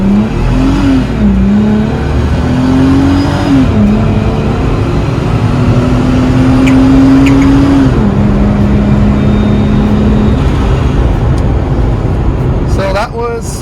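A second-generation Toyota Tacoma fitted with a Procharger supercharger pulls hard at full throttle. Its engine note climbs, drops at each gear change and climbs again, loud and close, with a whine rising near the end.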